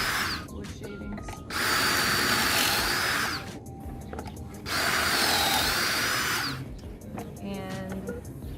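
A drill bores pocket holes in wood through a Kreg jig in two loud bursts of about two seconds each, with quieter handling sounds between them.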